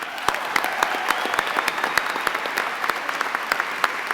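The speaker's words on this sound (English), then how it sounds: "please give her a round of applause" Clapping from a crowd at a 2022 nursing trailblazer award ceremony in Brisbane, dense and steady with sharp individual claps standing out, close and fairly loud, continuing for the full few seconds.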